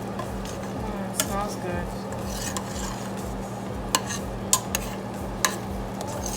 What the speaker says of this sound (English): So just stir it up.